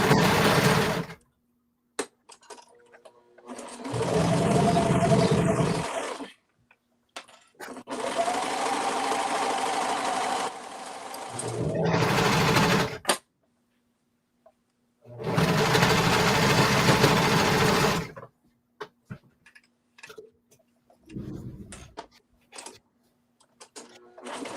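A sewing machine stitches a sweater seam in four or five loud, steady runs of a few seconds each, separated by short quiet pauses with faint handling noises.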